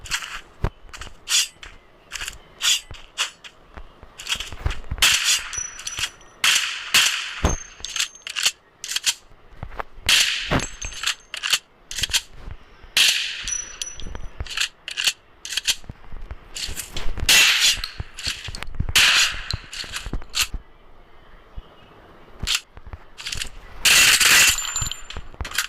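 A Mini Uzi fires and reloads in the Free Fire video game. Loud, sharp bursts of shots alternate with clicking, metallic reload mechanics in a repeated, choppy pattern over about half a minute, with no talking.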